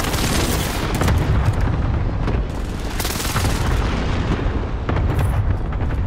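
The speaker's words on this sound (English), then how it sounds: "Enemy precision airstrike." Precision airstrike explosions in Call of Duty: Modern Warfare, several heavy booms and rumbling blasts rolling through a loud, dense combat soundscape with no clear voices.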